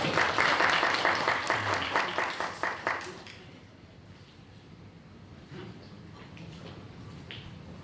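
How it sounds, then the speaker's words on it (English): Audience applause at a summer school introduction session, a dense burst of clapping that is loud for about three seconds and then thins out and fades, leaving quiet room tone with a few scattered claps. "Please welcome him in a round of applause."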